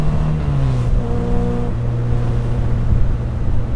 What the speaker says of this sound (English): This is like the best sounding car ever.